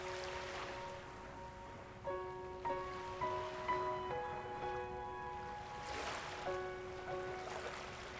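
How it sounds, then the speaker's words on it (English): Soft ocean waves wash steadily in the background, with gentle sustained musical tones of a guided meditation drifting over them and no voice. "gently bring it back to the sound of the waves."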